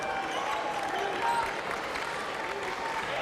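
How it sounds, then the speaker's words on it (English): Steady applause from a basketball arena crowd of fans in orange standing and clapping, a dense continuous wash of many hands without breaks through the whole stretch. "the people in orange around this arena are still standing and clapping"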